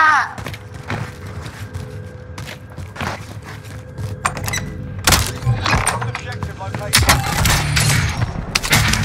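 Gunfire in the Warzone battle royale shooter: several sharp, loud shots scattered through the clip, with a denser cluster near the end, over steady game ambience and occasional talk.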